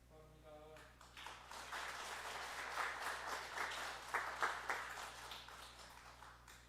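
A church congregation at a Sunday service applauds during a book presentation, a faint, steady patter of clapping that swells and continues for several seconds over a low hum.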